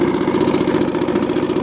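A Mercury Mark 10 outboard motor runs briefly in forward gear, a loud, close, rapid pulsing engine drone with an even, fast beat and no talking.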